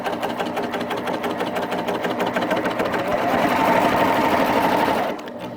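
Baby Lock Applaud sewing machine stitching steadily with a fast, even motor whir and needle rhythm that swells slightly louder before easing off near the end.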